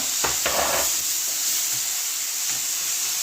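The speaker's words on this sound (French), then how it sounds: "Les oignons, ils ont caramélisé un petit peu, donc je rajoute mes tomates fraîches" Fresh tomatoes hit caramelized onions in a hot pan, giving a burst of sizzle and stirring clatter in the first second that settles into a steady, close hiss with no talking.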